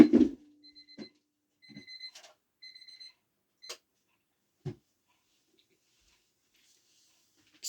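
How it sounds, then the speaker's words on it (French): An alarm clock rings early in the morning, giving bursts of bright electronic beeps in a repeating pattern, with a few soft knocks and thumps in between before it goes quiet. "j'ai mon réveil qui sonne"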